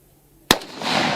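A single sharp rifle shot cracks out close and loud during tactical firearms training, then a burst of broadband noise and rumble trails on afterward.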